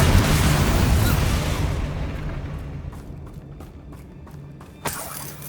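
A Bombarda blasting spell goes off in Hogwarts Legacy: a loud, rumbling explosion that decays over a few seconds into scattered debris clatter, with a sharp crack near the end.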